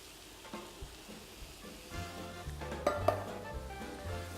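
Diced Italian tomatoes being stirred in a frying pan, a soft simmering sizzle broken by a few scrapes and light clinks of a utensil against the pan.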